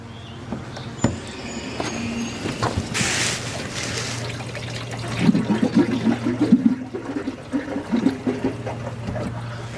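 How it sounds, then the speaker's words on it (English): Water running from a leak at a camper water heater, a steady splashing and trickling stream with gurgling bursts, close by, no talking. "I hear a lot of water running."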